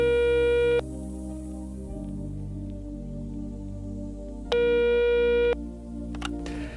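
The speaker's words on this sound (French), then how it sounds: "nous allons passer un coup de fil au prophète Jonathan depuis Goma" An outgoing telephone call to Goma sounds a steady ringback tone: two long, evenly pitched beeps several seconds apart over a low, constant background hum.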